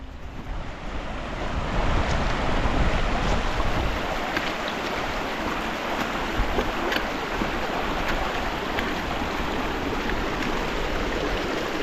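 A wintry beck at the crossing into Ruddy Gill rushes as a steady, broad wash of flowing water, close and continuous, with gusts of wind buffeting the microphone throughout.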